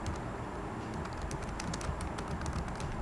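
Typing on a computer keyboard while working in Excel 2013: quick, uneven key clicks tapping steadily at close range over a dull background hum.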